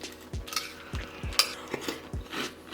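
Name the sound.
spoon stirring a teaspoon of sugar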